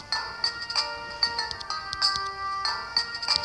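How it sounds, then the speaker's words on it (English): A mobile phone ringtone plays as a bright, repeating electronic melody with sharp chime-like tones, close and fairly loud, sounding alone over about three and a half seconds. "My phone. I'll put it on silent."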